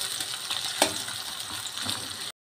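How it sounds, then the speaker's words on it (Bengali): Chopped onions fry with garlic in a pan, a dense, even crackling sizzle with a light scrape of stirring, cutting out briefly right at the end. "পেঁয়াজটা আমি খুব ভালোভাবে একটু ভেজে নেবো"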